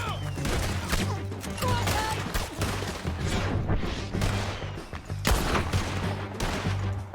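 Rifle gunfight in the video game Red Dead Redemption 2, with rapid gunshots and heavy fusillades cracking loudly throughout, dense overlapping fire and shouting battle noise filling the scene.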